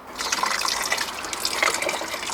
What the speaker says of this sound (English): then I'm just going to fill to about there with water